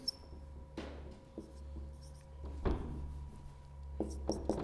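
Chalk or a marker taps and scrapes faintly against a classroom board in a few separate strokes over a steady low room hum, with no talk.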